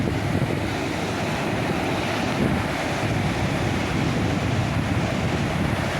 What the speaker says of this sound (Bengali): বাস খালি ঢেউগুলা দেখা যাবে।